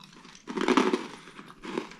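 Close, crisp crunching of freeze-dried Skittles candy in a couple of bursts, brittle and crackly, with brief pauses between bites.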